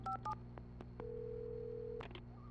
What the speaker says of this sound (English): let's use the phone and call the sheriff.